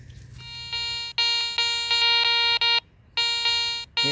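A Garrett metal detector with a Super Sniper coil emits loud, sharp electronic beeps in short bursts, with a distinct double beep in the middle, then a pause and more tones.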